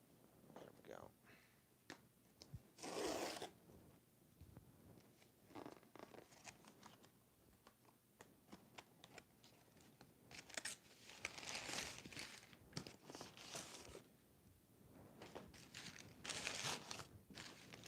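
A mail package's zip strip is torn open, with quiet bursts of ripping, crinkling and crumpling cardboard and plastic scattered through the stretch, mixed with speech.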